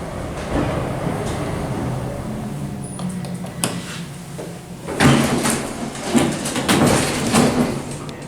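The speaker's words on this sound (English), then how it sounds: "That's a Dover door if I've ever heard one." Dover elevator doors in a fast traction elevator slide and slam shut with loud thuds and rattling clatter over a steady mechanical hum, fairly close.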